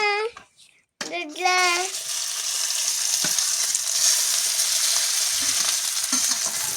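A brief voice opens, then paneer in egg masala bursts into a loud, steady frying sizzle in the pan, with occasional soft stirring knocks underneath.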